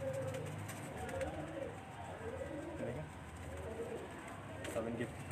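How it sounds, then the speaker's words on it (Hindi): Pigeons with white feathers coo in low, repeated bursts at close range, with a steady background hum and some human voices talking in Hindi over the birds. "ऐसा मैंने आपको बताया था कि सारे वाइट आइस के कबूतर है ये"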